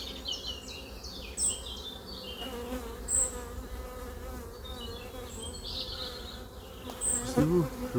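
Honeybees buzz close by at the hives, a dense, steady hum with individual insects swelling past, while faint bird chirps and a brief voice-like sound come through near the end.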